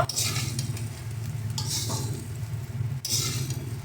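Vegetables stirred into fried rice in a pan, home-style, with a steady close-up sizzle and repeated scraping strokes of a utensil against the metal, broken by a few brief clinks.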